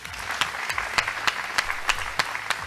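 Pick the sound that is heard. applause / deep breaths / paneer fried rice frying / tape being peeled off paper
applause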